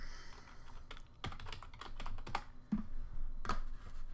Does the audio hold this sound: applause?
no